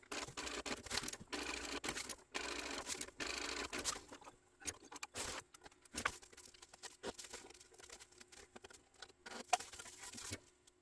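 A sewing machine stitching down a tote bag pocket chatters in rapid bursts, running in short stretches separated by pauses and small clicks of handling, close and fairly quiet.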